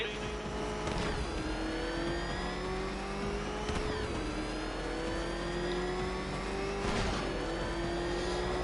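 Batmobile engine in a Batman video game revving and droning steadily throughout, with pitch sweeping upward in surges around a few seconds apart, loud and continuous.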